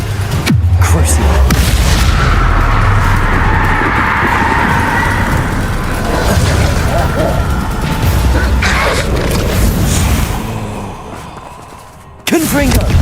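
Spell blasts and explosions crash through a Hogwarts Legacy battle, loud and sustained booms and impacts layered over a dense rumble, easing off briefly near the end before another hit.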